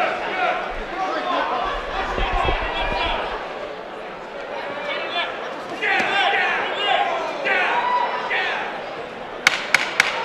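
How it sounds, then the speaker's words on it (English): A boxing arena crowd at the Paramount cheering and chattering through a fight round, heard under a commentator's voice, with sharp bursts of noise near the end. "And the Paramount crowd now getting behind Danny Gonzalez."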